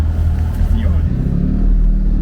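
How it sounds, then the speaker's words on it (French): A Fiat 500 engine runs while the car is driven, a steady low rumble that fills the clip with a slight rise in revs, heard from inside the cabin under a person talking. "Moi ce que j'adore c'est le bruit du moteur."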